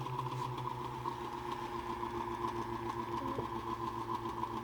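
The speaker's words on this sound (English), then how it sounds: "Listen to the sound of the motor, how much it lugs, and how quick it fills up and how high." A Muller motor generator motor hums and lugs under load while charging a capacitor, giving a steady close tonal drone with a faint mechanical flutter throughout and a brief small dip near the end.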